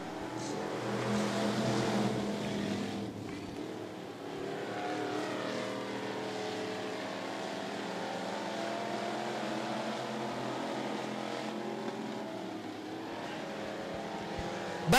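Street stock race cars roar out of turns 3 and 4 at Thunderhill Raceway, a loud, sustained blend of engines that rise in pitch and then settle into a steady drone as the pack passes.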